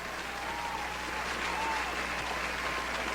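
Audience applause at a gathering about a homeless mother whose children froze to death in DC, a dense, even wash of clapping held at a steady level, with some voices in the crowd.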